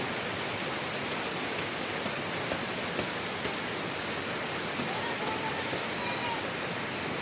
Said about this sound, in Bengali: ঝমঝমাইয়া বৃষ্টি পড়তেছে আকাশে